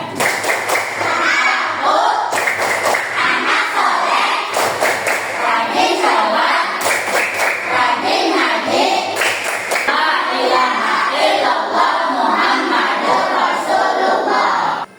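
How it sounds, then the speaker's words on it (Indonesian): A class of third-grade children in a schoolroom claps a rhythmic chant together, with sharp group claps in repeating bursts and lively young voices chanting between them. "Tepuk anak soleh."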